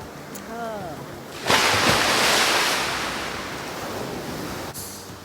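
Ocean surf rolls in at Stradbroke Island, a broad wash of breaking waves that swells loudly and slowly fades, with wind buffeting the microphone and a brief voice beforehand.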